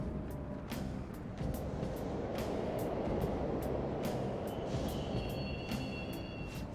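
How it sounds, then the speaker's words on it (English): Subway trains running in the video game Persona 5 Royal, a continuous rumbling rail roar with clacking and faint squeals, steady and fairly loud throughout. "The trains are totally running."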